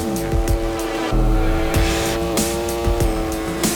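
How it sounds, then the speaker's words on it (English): Engine sound from the RIDE 4 motorcycle racing game, a loud steady engine note with repeated rev rises and drops as gears shift, plus tire noise and rushing wind, all under a steady din with no talking. "the dynamic sound will go hand in hand with the changes in engine revs due to the anti-wheelie or the traction control"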